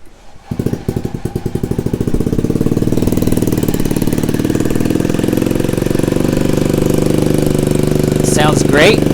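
Honda Ruckus scooter engine cranking and catching, then settling into a steady close putter that runs evenly for several seconds before a short voice cuts in near the end.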